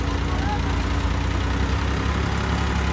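A tractor hauling a trolley of maize silage pulls out after rain, its engine a steady, heavy, close rumble throughout, with a voice talking over it.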